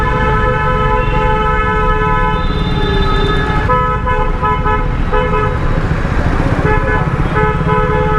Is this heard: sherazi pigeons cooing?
no